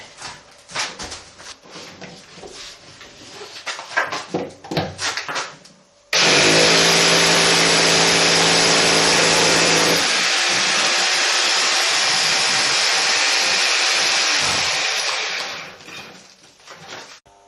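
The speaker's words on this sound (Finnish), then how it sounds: "Ja ei kun poraamaan." Power drill boring a hole up through a wall for a ground-source cooling installation, starting with a loud steady whine that grinds on for about ten seconds before stopping, preceded by rustling handling noises.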